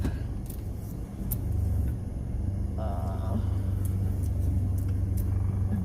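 A car engine rumbles low and steady while the car is straightened up in a parking spot, with a brief rise in the middle, close and continuous.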